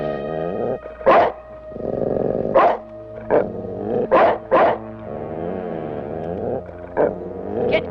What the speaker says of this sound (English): he was growling at the children